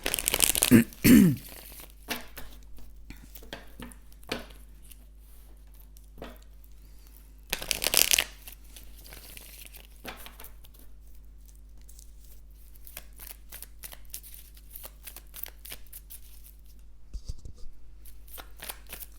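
A deck of cards is shuffled and cut for a reading, with two louder riffling bursts between stretches of soft, close card handling and light slides and taps.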